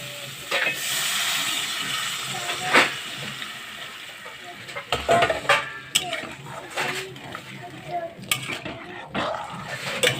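Water poured onto fried masala in a hot pan sends up a loud, steady hiss of steam for several seconds, then eases into scattered metallic scrapes and clatter as the mixture is stirred.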